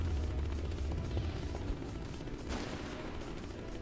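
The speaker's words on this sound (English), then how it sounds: "Well, that firecracker." A firecracker goes off in the video game Hybrid Animals: one sharp burst midway through, over a steady, busy game rumble.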